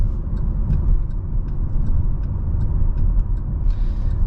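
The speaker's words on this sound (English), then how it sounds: "So let's go ahead and hop on the highway." A 2023 Buick Encore GX cruises on the highway, a steady, loud road and engine rumble with tire and wind noise holding constant throughout, no talking.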